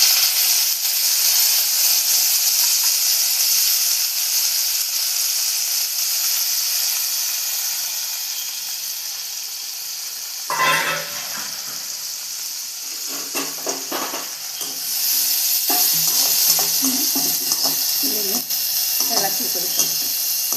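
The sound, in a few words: salt-rubbed dried prawns frying in oil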